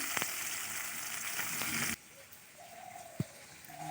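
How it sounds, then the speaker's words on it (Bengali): Small fish fry in a pan in a rural kitchen, a dense crackling sizzle that cuts off abruptly halfway, leaving faint background with a bird cooing and a brief knock. "এখানে আমি মাছ ভাজতে বসিয়ে দিয়েছি তো মাছটা ততক্ষণ ভাজা হোক"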